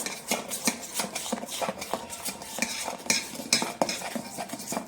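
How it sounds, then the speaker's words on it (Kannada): A spoon stirs homemade natural shampoo base in a bowl, clinking and scraping against the sides in quick, rhythmic close-up strokes. "ಶಾಂಪು ಬೇಸ್ ಹಾಕಿದ ಮೇಲೆ ಚೆನ್ನಾಗಿ ಅದು ಕೈ ಆಡಬೇಕು ಸ್ಪೂನ್ ತಗೊಂಡು"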